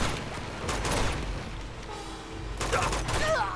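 Rapid bursts of automatic gunfire and scattered shots from an Uncharted video game firefight, loud and dense across the whole stretch, with a voice talking over the shooting.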